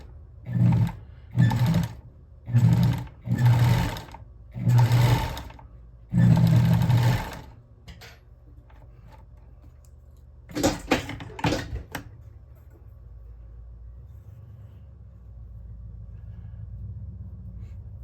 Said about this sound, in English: So we sewed that side to the thumb.